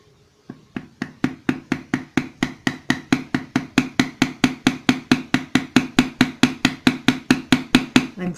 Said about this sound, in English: we're going to hammer this one down